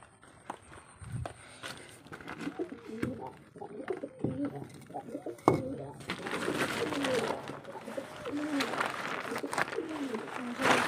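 Pet pigeons coo in soft, murmuring bursts close by, mixed with shuffling footsteps and a person talking over them.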